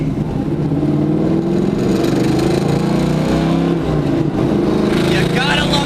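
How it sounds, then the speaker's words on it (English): A 1973 Dodge Challenger's V8 rumbles steadily while cruising, a deep continuous engine drone heard from inside the car, loud and constant throughout with no voices. "Definitely a good sounding V8"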